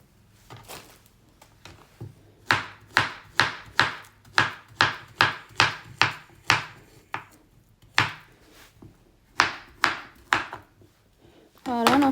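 A banana is sliced for a mango and banana smoothie, a quick run of about fifteen crisp, evenly spaced knife chops on a board, close and clear, with a voice starting at the very end.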